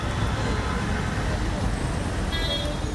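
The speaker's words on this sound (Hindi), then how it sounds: "ट्रैफिक जाम की स्थिति देखिए। ये अरबिंदो मार्ग है" Stalled traffic on Aurobindo Marg in Delhi makes a dense, steady roadway rumble of idling and creeping cars, buses and trucks, with a brief horn toot near the end, heard continuously at moderate distance.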